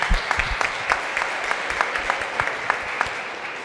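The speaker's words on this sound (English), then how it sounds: "please give a round of applause for our speakers" An audience at a logistics conference in Warsaw applauds the speakers, a modest, steady patter of clapping from a room of people, fairly close and continuing evenly throughout.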